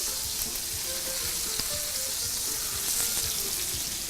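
New York steak frying in a pan, a steady bright sizzle and crackle close by, with faint low clatter underneath.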